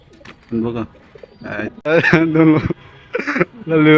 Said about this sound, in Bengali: আকাশে ওই জায়গায় যে কবুতরগুলো আছে না অনেকগুলা